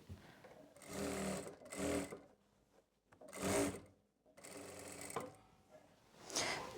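Sewing machine stitching the inner seam of a sharara, running in four or five loud bursts of rapid stitching separated by short pauses.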